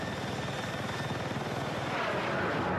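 Jet aircraft in the video game Battlefield 6, a continuous roaring engine rush that swells slightly as the plane circles nearby, heard alone without talk.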